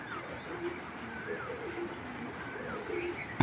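Pigeons of a 2024 breeding line with silver eyes coo softly and repeatedly at moderate distance, steady low murmuring calls over a busy background of bird chatter.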